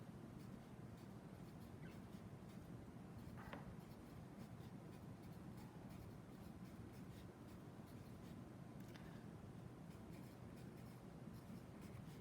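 Hand-writing on a surface during a maths lesson on Pascal's triangle: soft, continuous scratching strokes, faint and close, over a steady background hiss.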